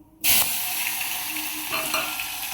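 Mustard seeds, cumin, tomatoes and chillies hit hot oil with a sudden loud burst of sizzling, settling into a steady crackling fry with faint stirring clinks, close up and without talk.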